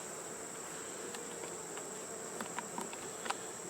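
Honey bees buzzing at an open hive: a steady, high, faint hum with occasional closer passes and small rustling taps as the top of the hive is worked.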